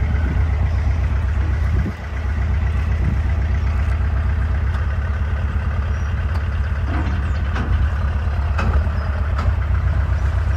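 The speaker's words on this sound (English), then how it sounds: "gearbox is really clunky on this" A clunky gearbox on a narrowboat's engine running steadily, with a low, loud, continuous rumble, a brief dip in level early on and faint knocks scattered throughout.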